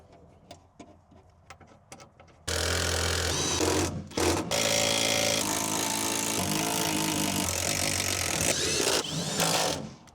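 An impact wrench runs bolts back in on a Jeep during a rear seat delete. After a few quiet clicks, a loud, continuous rattling buzz runs for about seven seconds, with one brief dip.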